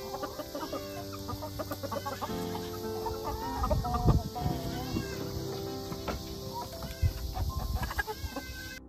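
Backyard chickens clucking in short irregular bursts at moderate distance, several birds overlapping against a busy outdoor background, with occasional louder calls standing out.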